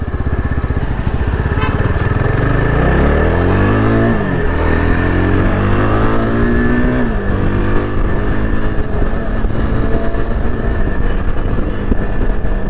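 A Yezdi Adventure motorcycle accelerates along a main road, its engine rising in pitch through the gears with audible shifts, loud and close with steady wind noise throughout.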